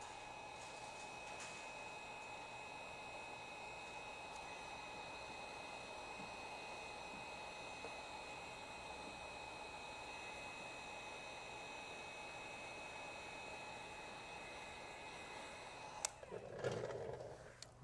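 A heat gun blows steadily while warming tint film on a Ford Maverick taillight, giving a constant, even whooshing hum with a faint tonal whine, ending in a brief rustle and handling noise.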